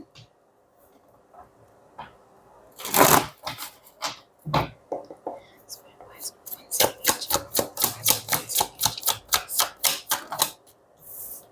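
Tarot cards are handled and shuffled, with a few scattered snaps and flicks at first, then a fast, even run of crisp card riffles. A voice speaks faintly in the background.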